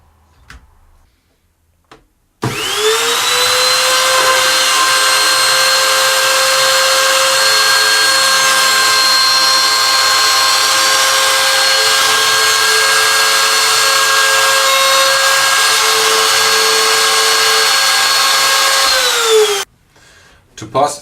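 An electric drill whines at a steady high pitch as it bores a 2.5mm hole through a guitar bridge for a piezo pickup, spinning up sharply, holding constant for about seventeen seconds, then winding down to near silence.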